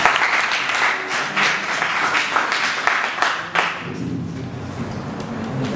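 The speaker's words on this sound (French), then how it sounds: "Toutes mes félicitations et les applaudissements encore." Steady, fairly loud applause for the winners of a French-language quiz contest, dense clapping that fades slightly toward the end as a low murmur of voices rises.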